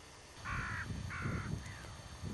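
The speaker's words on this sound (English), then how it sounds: "Crows in the background." Crows caw outdoors near a ruined castle shell: two clear harsh caws in sequence followed by a fainter third, over low wind-like background noise.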